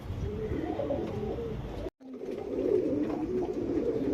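Pedigree pigeons offered for sale coo steadily and close by, a dense murmur of soft throaty calls that breaks off for a split second midway, then carries on just as thickly.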